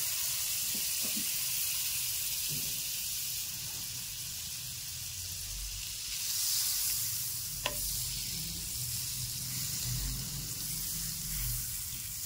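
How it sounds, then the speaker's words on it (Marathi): Butter sizzling and spitting in a hot pan on a gas stove, a steady frying hiss with occasional pops and a few stirring scrapes, close and moderately loud with no talk. "हे पहा आपला पॅन तापलेला आहे. आपण त्याच्यामध्ये थोडंसं बटर टाकूया."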